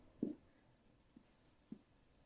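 Writing on a board during a chemistry lesson: three short, faint strokes spaced about half a second apart in an otherwise quiet room.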